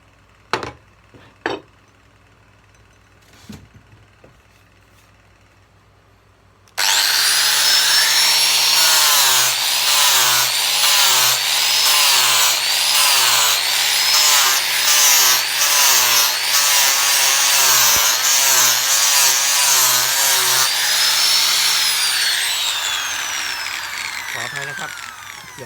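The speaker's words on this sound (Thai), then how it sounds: "เราก็เริ่มตกแต่งโดยใช้ ใบขัดกระดาษทรายมาขัด" After a few light knocks, a power sander with a sandpaper disc starts up loudly and grinds continuously with a pulsing rhythm as it presses against a knife handle, then eases slightly.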